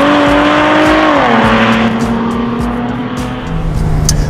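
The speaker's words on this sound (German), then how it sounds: "Wenn ich aufs Gas gehe, der reagiert sehr spontan und der klingt einfach herrlich." A Mercedes SL350 sports car engine accelerates hard, a loud, close, continuous roar with rising then settling tone and a gear change midway, no talking.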